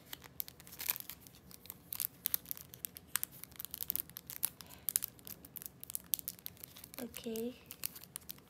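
Large vinyl stickers have their packaging pulled and torn open, with crinkly crackling bursts close by, and a person briefly talks partway through.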